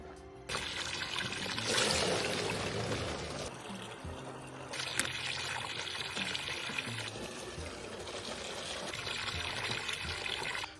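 Running water from a tap pours in a steady, hissing stream for about ten seconds, fairly faint, with no talking over it.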